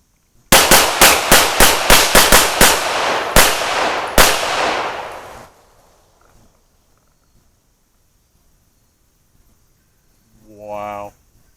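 Sig Sauer P320 X5 Legion pistol fires a rapid string of about ten sharp, loud shots outdoors, then two more spaced shots with echo trailing off, followed by silence and a brief later sound.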